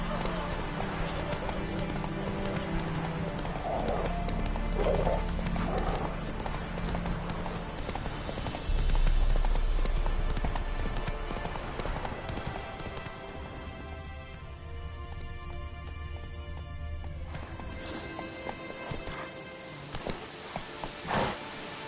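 Hooves of Roach, a horse in The Witcher 3 video game, clip-clop in a fast steady gallop, loud and close under game music and ambience, with the pace easing toward the end.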